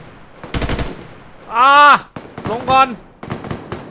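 A rapid burst of gunfire in a Roblox shooting game, sharp cracks fired in quick succession, followed by a player speaking loudly over the game.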